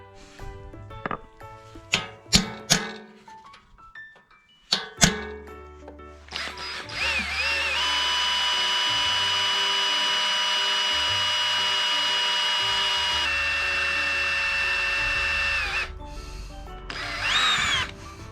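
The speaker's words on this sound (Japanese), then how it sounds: "エキストラクターっていうことで、折れ込んだネジを抜くやつ、逆回転させてって、このネジを抜くってやつですね" A power drill drives a screw extractor to back out a broken screw in an amphibious vehicle's intake manifold. A few sharp taps and clicks come first, then a long, loud, steady whine that stops abruptly near the end, followed by a short final burst.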